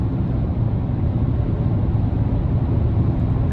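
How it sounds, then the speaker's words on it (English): Off-road tires on a 2024 GMC Sierra 1500 AT4X with a 6.2 V8 produce a steady low road hum inside the cabin while driving, a constant rumbling drone with no talk. "You're hearing just that slight hum from these tires being very off-road oriented."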